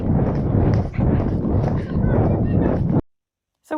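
A horse on an endurance training ride over varied terrain, hooves thudding in a steady rhythmic clip-clop close by for about three seconds, mixed with rider talk and breathing.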